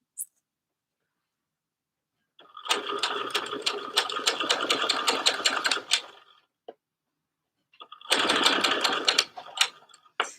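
Sewing machine stitching a very narrow hem on a dress, two close, fast rattling bursts of stitching, the first about three seconds long and the second shorter, separated by quiet pauses with a few small clicks.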